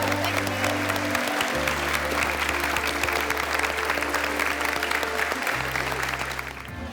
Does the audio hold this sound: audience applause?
yes